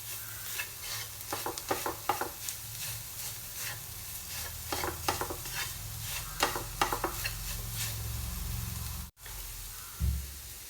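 Masala mixture being stirred and fried in a pan, with steady sizzling and repeated scraping strokes of a spoon, close and fairly loud, with a brief pause near the end.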